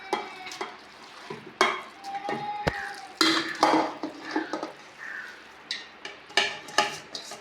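Pieces of meat are scraped and dropped into a pressure cooker, with intermittent metallic clinks, scrapes and soft thuds of a utensil against the pot, close by and irregular.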